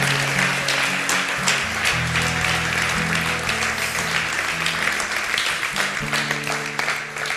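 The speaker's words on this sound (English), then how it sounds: "Give them a huge round of applause, would you?" A church congregation gives a sustained round of applause, steady clapping from many hands filling the room, with music playing underneath and no speech on top.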